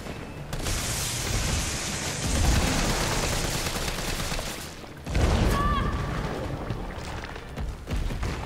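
Dense, continuous gunfire with booming hits in the video game Resident Evil 3, loud and sustained through the whole stretch, with a brief dip midway before it surges again.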